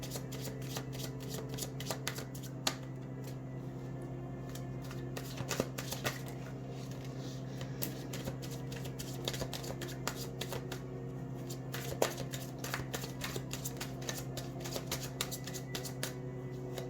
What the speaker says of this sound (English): I do apologize for all the shuffling